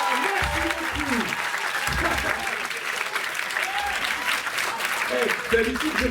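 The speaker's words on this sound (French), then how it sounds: "je vous demande de venir ici dans un applaudissement énergique" Energetic applause from a theatre audience at a live storytelling show in a small Paris theatre, dense sustained clapping throughout with a voice talking over it.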